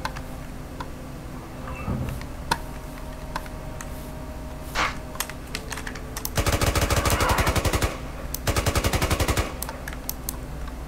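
Rapid bursts of retro video game gunfire from the indie horror shooter Rabbit-Man 3D, two sustained rattling volleys after scattered single shots and clicks, fairly loud with no talking.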